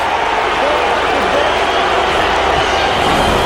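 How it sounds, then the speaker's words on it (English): Rugby league stadium crowd roaring after a try in a Manly Sea Eagles versus Canberra Raiders match, a dense, loud, steady wash of cheering and noise throughout. "You can hear the crowd"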